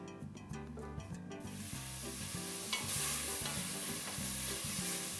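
Lardons fry in a wide pan ahead of a crème fraîche sauce, a bright steady sizzle that rises and holds under background music, no talking.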